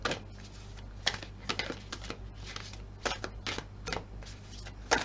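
A tarot card deck being shuffled up close, with repeated riffling bursts and soft slaps of cards at an uneven rhythm, no voices.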